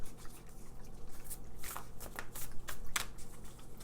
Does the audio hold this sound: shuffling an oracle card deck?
yes